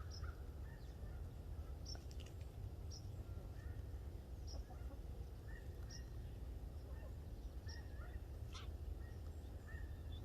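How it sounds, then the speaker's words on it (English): Distant honking calls of geese passing overhead, scattered brief cries over a steady low rumble of wind or ambient noise. "you can hear the geese on the microphone"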